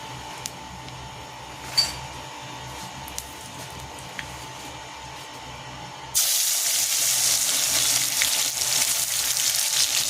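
Tomatoes dropped into hot oil for a fish curry set off a sudden loud sizzle that holds steady after a quiet stretch with a few small clinks.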